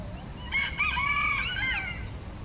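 A small miniature chicken crowing at a Sochi arboretum, one clear, drawn-out cock-a-doodle-doo of about a second, close and loud over a quiet background.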